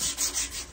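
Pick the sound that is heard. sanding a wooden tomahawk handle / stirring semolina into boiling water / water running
sanding a wooden tomahawk handle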